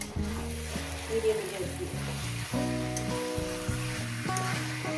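Mutton with spices sizzles and crackles steadily in a pan while being stir-fried, a continuous close frying hiss with occasional stirring scrapes and faint talk in the background.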